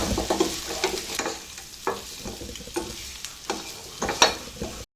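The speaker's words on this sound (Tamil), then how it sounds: "இந்த கிழங்கு சேர்த்து நல்லா பெரட்டிக்கலாம் லோ மீடியமில் வச்சு நம்ம நல்லா ரோஸ்ட் ஆகிற அளவுக்கு நம்ம பரட்டி விட்டுட்டே இருக்கணும்" Taro root pieces fry and roast in a pan on low-medium heat, a steady close sizzle broken by repeated scraping stirs of a spatula at an uneven rhythm.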